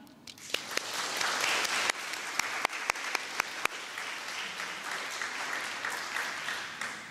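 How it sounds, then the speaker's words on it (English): An audience at a graduation ceremony applauds steadily for several seconds, a dense patter of clapping with a few sharp louder claps, heard from within the crowd. "Seniors, please join me in a round of applause for these special people in your lives"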